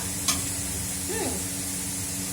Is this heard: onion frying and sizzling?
yes